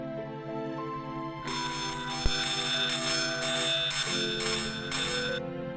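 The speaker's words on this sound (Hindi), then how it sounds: "आप अपनी साइकिल की घंटी बजाएंगे" A bicycle bell rings loudly in rapid repeated bursts for about four seconds, its bright metallic trill pulsing in a steady rhythm over a faint background hum, with no voices.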